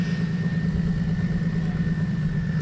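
A car engine idles at a car meet roll-in, a steady low rumble with a faint constant whine above it, close and continuous without revving.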